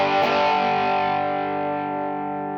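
Electric guitar on its bridge pickup, run through a Rothstein mid-boost/mid-cut tone control on a Crook Custom guitar, rings out as one loud distorted chord that sustains and slowly fades.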